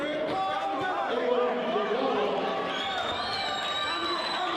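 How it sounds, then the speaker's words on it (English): A boxing-arena crowd at a heavyweight bout for fighters over 165 pounds cheers and chatters steadily, swelling slightly louder toward the end, under continuous commentator talk. "Crowd's beginning to get into it more."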